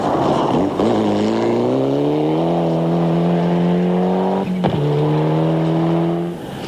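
A Mitsubishi Evo 5 rally car on a gravel stage at Rally Otago climbs steadily in pitch under hard acceleration, with a sharp gear change near the end before the engine pulls again, loud and alone.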